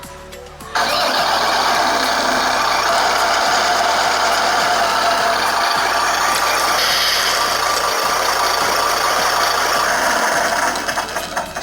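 Simulated engine sound from a WPL small-scale RC truck receiver with a sound module, starting up and then running steadily with a loud, continuous idle and a repeating low rhythmic throb.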